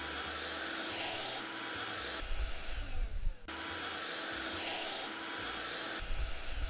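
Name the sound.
vacuum cleaning a window in House Flipper video game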